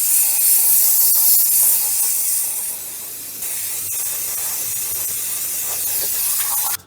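Aerosol brake cleaner sprayed onto brake shoes soaked in brake fluid, a loud continuous close hiss lasting about seven seconds, dipping briefly midway before cutting off sharply at the end.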